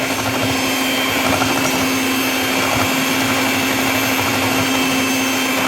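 An electric beater mixes coffee butter in a cold pan, giving a loud, steady motor whine with a constant tone and a grainy whir that runs without pause.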